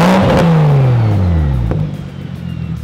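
A BMW engine fitted with a muffler revs up loudly once, the pitch sweeping down as it falls back, then settles into a quieter idle.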